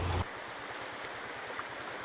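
A flooded river rushes past in a continuous broadband roar of churning water, steady and fairly near, after a brief louder burst at the start, with no voices.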